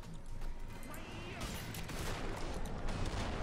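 Rapid gunfire and a grenade blast ring out in the shooter game Killing Floor 2, dense bursts of crackling shots over a busy, chaotic mix.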